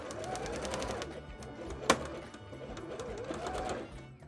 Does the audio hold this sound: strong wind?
no